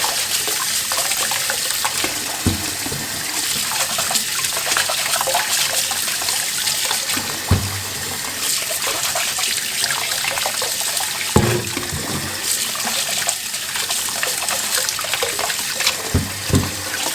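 Tap water runs steadily into a sink while fresh radishes are washed, a loud continuous splashing rush broken by occasional thumps and knocks of handling.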